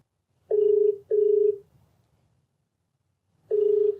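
A telephone ringback tone while calling Radhika, two short beeps close together, a pause, then a third, clean and steady with no voices.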